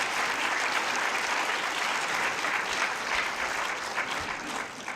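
An audience at a film evening in a cinema claps steadily, a dense, even burst of applause that fills the room and fades slightly at the close.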